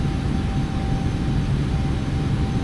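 Boeing 777 jet engines hold climb thrust in a flight simulator game, a dense steady roar with a low rumble and a thin constant whine running unbroken throughout, no voices.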